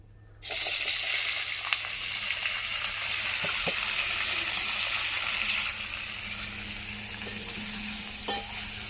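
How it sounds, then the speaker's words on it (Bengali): Diced potato, flat beans and eggplant hit hot oil tempered with five-spice, bursting into a loud, steady sizzle that fades slightly toward the end, with occasional stirring clinks. "এবার তেলের মধ্যে দিয়ে দেবো 5 ফোড়ন দেওয়া আছে, আলু, শিম, বেগুন দিয়ে দেবো।"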